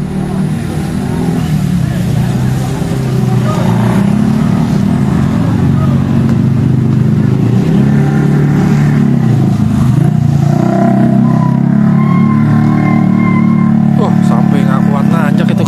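A motorcycle engine drones and labors continuously at high revs while straining up a steep hill, loud and close, with people talking over it.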